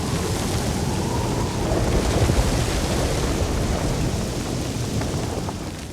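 Heavy storm with rolling thunder and driving rain on a coastal lighthouse setting, a dense continuous roar that swells in the middle and slowly eases toward the end, with no voices.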